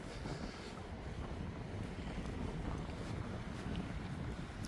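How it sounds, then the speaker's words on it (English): Steady wind roars and buffets the microphone on a beach at Cleethorpes in winter, with a constant broadband rush and no speech. "It's windy again on the beach, so if you can't hear me properly, I do apologise."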